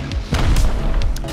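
Rockets and gunfire hit a house during a raid in Rust, producing a cluster of heavy, close booms and sharp bursts in quick succession over a low rumbling bed.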